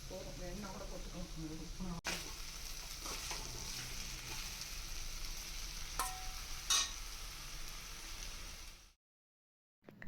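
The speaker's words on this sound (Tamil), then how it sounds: "உருளைக்கிழங்கு நல்லா ஈவனாக மிக்ஸ் பண்ணிவிட்டு அதுக்கப்புறம் காலிஃப்ளவரும் போட்டுக்கலாம்." Potatoes frying in oil in a pan being stirred, a steady sizzle with scraping stir sounds throughout, a few sharper clinks near the end before it cuts to silence.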